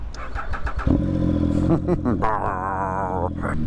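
A 2016 Triumph Speed Triple R motorcycle engine drones steadily, then its revs jump in a quick throttle blip and settle into a higher, even note, heard close and loud under a speaking voice.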